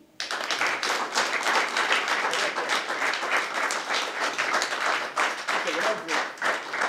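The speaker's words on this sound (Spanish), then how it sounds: "Quiero que le rindan un caluroso aplauso." Warm applause from a small audience at an award ceremony in Curicó honoring Tato Cifuentes for his career; dense, continuous clapping starts abruptly and holds steady at close range for several seconds.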